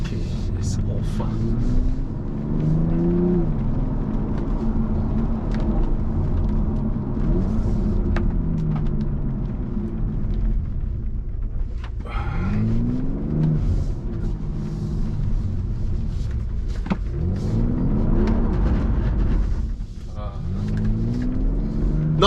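A BMW M340i's engine revs with traction control switched off, rising and falling in several loud, close sweeps over a steady rumble, with a voice speaking at times.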